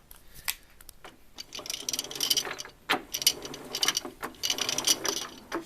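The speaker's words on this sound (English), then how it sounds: "I move a pulley, and we can see how spindle turns" Gearbox of a 16K20 lathe, with a pulley moved by hand while the spindle turns, giving close ratcheting clicks and gear rattles in uneven bursts with short pauses.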